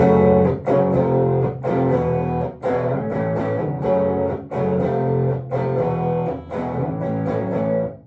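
A loud distorted electric guitar plays a chugging rhythm part, chords repeating in short bursts with brief gaps between phrases, no voices.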